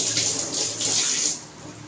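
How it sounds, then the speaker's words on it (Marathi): Tap water runs over hands being washed in a kitchen, a close, bright splashing stream that dips briefly as the hands move under it. "हात धुते जरा।"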